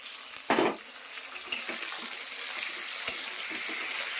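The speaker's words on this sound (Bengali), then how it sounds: "আর পেঁয়াজ ভাজা হয়ে গেছে আলু টমেটো দিয়ে দিচ্ছি" Potatoes and tomatoes tossed into a pan of fried onions crackle and hiss continuously up close, with a few knocks of stirring against the pan.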